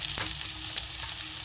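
Mutton pieces and potato frying together in a pan, a close continuous sizzle with a few light stirring scrapes, no voices.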